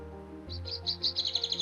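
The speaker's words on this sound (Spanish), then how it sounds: "tenemos muy escuchado al pajarito pinzón, pero realmente cómo suena. Vamos a ver si lo podemos escuchar" Song of a finch played from a plush toy: a rapid series of bright, high chirps that grow louder and quicker after a brief electronic start, heard close up with no talking.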